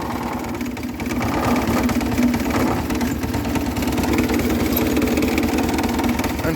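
A John Deere 200 series garden tractor engine runs steadily close by, a continuous loud mechanical drone with a rapid even pulse and no break across the whole stretch.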